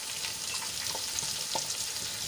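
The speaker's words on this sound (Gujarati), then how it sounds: "પેસ્ટ આપણી સંતળાઈ ગઈ છે એમાં બે નાની સાઈઝની ડુંગળી કાપી લીધી છે આ રીત ઝીણી ઝીણી એ એડ કરી દઈશું" Finely chopped small onions go into sautéed spice paste in hot oil, giving a soft steady sizzle with a few light stirring clicks, close and without speech.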